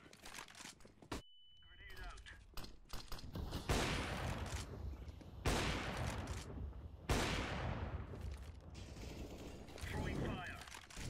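A FAMAS rifle fires in a competitive shooter video game as bursts of gunfire and mechanical clacks ring out loud and close, mixed with keyboard-like clicks, while a player talks over the action.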